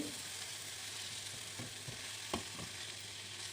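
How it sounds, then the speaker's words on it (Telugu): Spinach stirred into onions frying in a pan gives a steady, close sizzle and hiss, broken by a few soft scraping taps of the spoon against the pan. "ఈ పాలకూర అంతటిని వేసి ఆనియన్స్తో బాగా మిక్స్ చేయాలండి"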